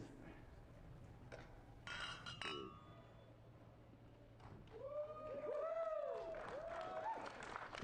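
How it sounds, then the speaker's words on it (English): Leaders of Shoal Lake 40 clink their glasses together in a celebratory toast, with several bright, ringing clinks over a murmuring crowd and some scattered clapping and voices. "Leaders from Shoal Lake 40 clinked together their glasses in celebration"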